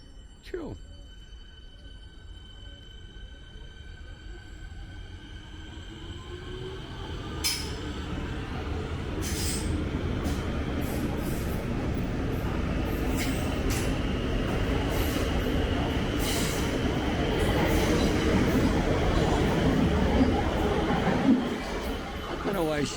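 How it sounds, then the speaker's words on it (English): A Sandringham-bound train pulls away from Windsor railway station in Victoria, its broad rumble building steadily and holding loud and close for about twenty seconds, with faint distant voices and a brief squeal near the end. "So here we have the next Sandringham bound train."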